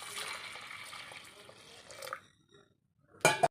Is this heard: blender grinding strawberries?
no